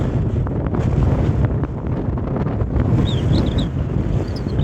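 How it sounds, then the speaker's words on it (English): Steady, heavy wind buffets the microphone, a continuous low roar and rumble throughout, with faint high chirps near the end. "Very windy."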